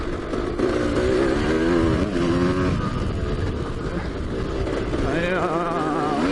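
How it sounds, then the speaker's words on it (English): A 1996 KTM 250 EXC two-stroke dirt bike engine revs loudly and continuously, pitch rising and falling through the gears as it is ridden, close and steady throughout. "So I spend my Saturday afternoons on the dirt bike, KTM 250"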